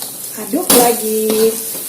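A spatula scrapes and clinks against a pan while octopus fries with spices, in a couple of sharp metallic strokes over a soft, continuous sizzle, close and fairly loud.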